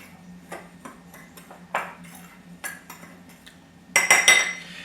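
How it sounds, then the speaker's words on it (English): A spoon or whisk stirs sugar, flour and cinnamon together in a bowl for muffins, giving scattered light clinks and scrapes against the bowl, ending in a louder ringing burst of clatter; no one speaks. "we're going to mix all these dry ingredients together"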